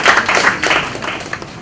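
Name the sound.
applause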